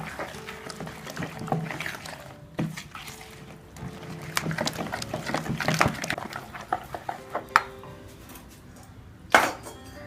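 Millet paniyaram batter is stirred in a bowl with a spoon, giving irregular soft scraping and wet slaps with occasional clinks against the side, close and without talk, ending in one sharper knock.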